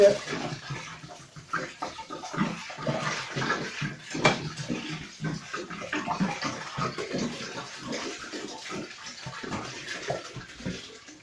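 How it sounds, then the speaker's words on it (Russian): Water from bottles splashes and gushes unevenly into an aquarium, a steady pouring with bursts of churning as the stream moves around the tank. "воду с бутылок заливаю, стараюсь под напором по всему аквариуму"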